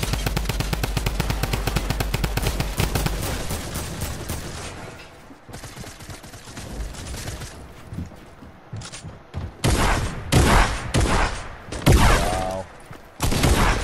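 Shotgun and other gunfire in a video game: a long, rapid, loud run of blasts, then scattered shots and several heavy booming blasts close by. A brief exclamation is heard among them.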